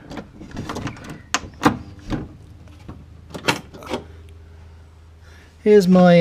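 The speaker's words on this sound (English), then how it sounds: "door handle in action," A Gilbern car's improved door opening mechanism works with a run of sharp clicks and clunks from the handle. A voice briefly joins at the very end.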